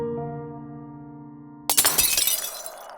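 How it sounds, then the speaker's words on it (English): Glass vases shatter in a sudden loud crash across a dining room, breaking over a soft sustained musical tone, with scattered fragments clattering and fading over the next second. "the two flinched to a loud, shattering noise from across the room in their dining space"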